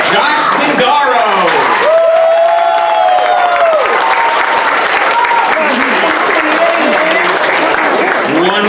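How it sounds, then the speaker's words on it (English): Sustained applause from a crowd at an LBE 6th grade class of 2022 moving up ceremony, dense clapping filling the space throughout, with cheers and shouting voices rising over it. "One more round of applause for the LBE 6th grade class of 2022."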